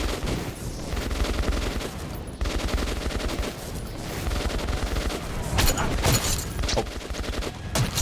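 Sustained automatic gunfire in the post-apocalyptic shooter Metro 2033 Redux, dense rapid bursts of shots rattling continuously for several seconds with a few louder cracks near the end, close and loud.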